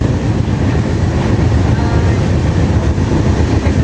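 Hirakud Express train rolling along, a loud, steady rumble with dense low-frequency roar and faint wheel rattle, heard from inside the carriage without a break.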